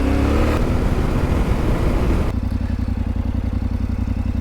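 Yamaha Ténéré motorcycle engine running nearby, loud rough revving that drops into a steady rapid thumping idle partway through.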